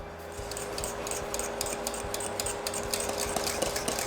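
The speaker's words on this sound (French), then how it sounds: "on remue partout dans la casserole pour éviter que ça brûle" Steady scraping of a utensil stirring thickening cream in a saucepan, with soft repeated clicks against the metal over a constant background hum.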